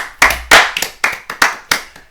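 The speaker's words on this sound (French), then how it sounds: "Son anecdote les amis, on l'applaudit s'il vous plaît." A handful of sharp, close hand claps in an uneven run of about eight beats, loud and dry, with no voices over them.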